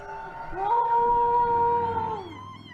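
Neighbors howl outdoors in support of health workers: one long, wavering human howl imitating a wolf rises, holds for about two seconds and then slides down, clear and fairly close.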